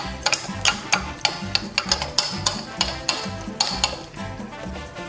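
A rum drink stirred in a glass, with rapid rhythmic clinking and scraping strokes repeating close up and fairly steady throughout, nothing else heard over them.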